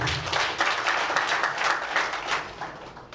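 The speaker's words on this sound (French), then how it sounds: "Ça s'applaudit, ça." A crowd at an award ceremony applauding steadily for a few seconds, a dense, even wash of many hands clapping at moderate volume.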